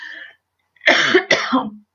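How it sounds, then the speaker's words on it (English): A person gives two sharp, loud coughs close to the microphone, preceded by a brief throat sound, with silence between them. "I did not mean to make this cough show up."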